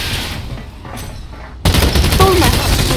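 Gunfire from a burst-fire pistol in the futuristic shooter Blacklight Retribution, with a sudden loud, dense crack of shots midway that stays heavy to the end; talk runs through it.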